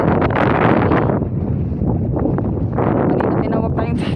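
Strong gusts buffet the microphone in a loud, continuous roar, easing briefly midway before surging again.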